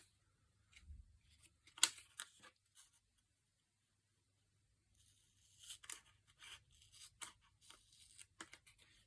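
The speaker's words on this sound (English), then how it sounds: "Let's cut that off and see how it looks." Scissors cut a planner sticker from its sheet with quiet scattered snips and paper rustles, a brief pause in the middle, then another run of small, soft cuts.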